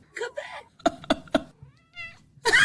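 A cat meows once, a short, faint, tonal call that stands alone between bursts of nearby speech and laughter.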